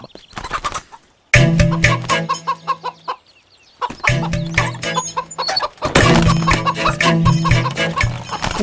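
A chicken clucks loudly and close by in repeated bursts with short pauses between them, and there are brief flurries of louder squawking.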